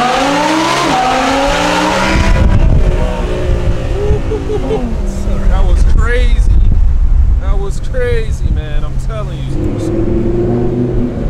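A straight-piped Audi R8 on a tunnel run: a loud, close exhaust roar with rising and falling revs that echoes and fills the space, with voices and squeal-like bursts mixed in.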